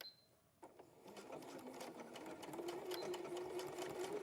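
A sewing machine stitches the end of elastic in place on a dress, its quiet motor starting up and building to a steady, close whirring hum with rapid needle ticking.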